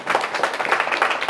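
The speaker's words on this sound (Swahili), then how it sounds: "Mpigeni makofi sana mwenyekiti." A crowd applauds a party chairman at a Chama cha Mapinduzi rally, a dense, steady wash of many hands clapping with no voices standing out.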